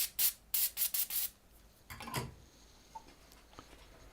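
Air compressor nozzle blowing debris off a wet MacBook in a repair workshop, heard as a series of short, sharp hissing air bursts up close, followed by a longer blast and then quieter handling noises.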